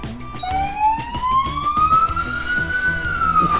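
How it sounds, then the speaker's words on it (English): A loud electronic siren from an emergency vehicle wails, rising and falling in pitch, over a background of rhythmic beeping. "But this button right here is gonna play the siren."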